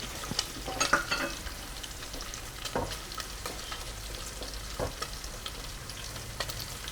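Sliced onion rings fry in a pan with a steady sizzle, broken by a few sharp crackles and the occasional scrape of stirring; close and continuous, no voices.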